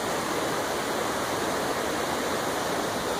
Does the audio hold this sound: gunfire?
no